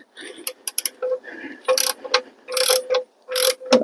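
A cheap thread repair tool is worked into a stripped oil pan drain hole, giving a series of close metallic ratcheting clicks and scraping bursts that stop and start as it is turned back and forth.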